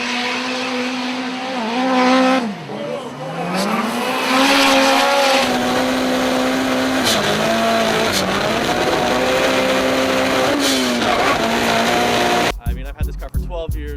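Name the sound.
Toyota AE86 car driving, tires squealing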